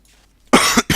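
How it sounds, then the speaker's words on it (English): A single sharp cough, then a second shorter one, close and loud after a brief quiet moment. "I just got a bit of a cough"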